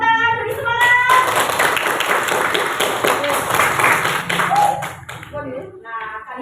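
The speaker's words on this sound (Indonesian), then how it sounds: "Tepuk tangan, beri semangat." Schoolchildren in a classroom clapping together in a rhythmic burst of quick claps, close and fairly loud for several seconds, with voices mixed in before it fades out.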